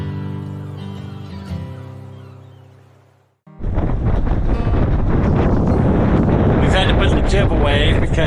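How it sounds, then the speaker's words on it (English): Strong wind roars across the microphone aboard a Beneteau sailboat, a sudden loud buffeting gust taking over after a quieter, fading opening. "there's a little more wind than we were expecting"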